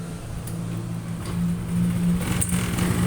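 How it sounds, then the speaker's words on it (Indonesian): A Honda Supra X 125 motorcycle engine idles close by, a steady low hum with a soft mechanical rattle and slight swells in loudness. "Tak cek sound mesinnya."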